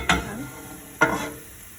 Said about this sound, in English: I've got the garlic is sizzling up over here.